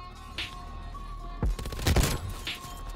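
Gunfire in Call of Duty: Black Ops Cold War multiplayer: a sharp nearby shot followed by a rapid, loud burst of automatic fire over steady in-game ambience, then fading.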